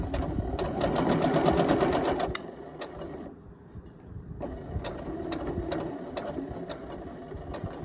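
A sewing machine stitches quilt seams for a half-square-triangle quilt top in a fast, steady mechanical whir, close and clear, pausing briefly before running again.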